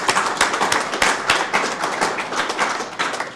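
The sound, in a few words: applause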